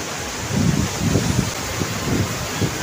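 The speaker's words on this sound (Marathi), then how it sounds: "वारा काय मारला" A strong gust of wind blows outdoors near water on a shore, roaring and buffeting the microphone in uneven low bursts, with no talking.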